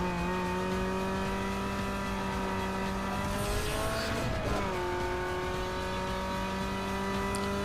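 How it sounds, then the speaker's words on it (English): A car drifts through a corner in Need for Speed Underground 2, a steady loud engine drone in second gear with a brief swell of tire squeal and shifting pitch midway, then the engine settles back to an even hum. "take this corner in second gear, have a little bit of a drift going on"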